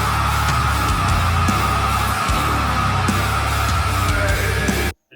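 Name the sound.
bass guitar sound from a band's latest album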